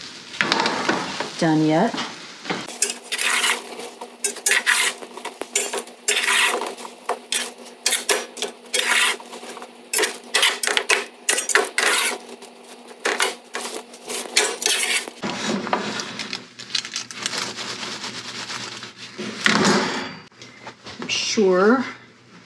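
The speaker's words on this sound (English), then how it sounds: "Let's give this a stir." A spoon scrapes and clatters through a cheesy summer squash rice casserole in a pot, a long run of quick close stirring strokes, with a person talking briefly at the start and again near the end.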